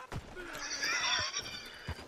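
Horse in the Red Dead Online video game neighing with a loud, drawn-out whinny, framed by a few sharp clip-clop hoofbeats near the start and end of the short stretch.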